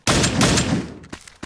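Scoped assault rifle in Build Royale.io fires a loud, dense burst of rapid shots lasting about a second, followed by a brief pause and two sharper single reports at the end.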